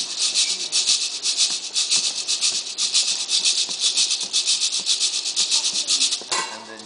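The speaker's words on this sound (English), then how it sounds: "They have different etchings in the gourd to make the different sounds." A shekere, an etched gourd shaker strung with plastic beads, is rattled in a steady rhythmic pattern of bright, hissy swishes, close and fairly loud, before stopping abruptly near the end.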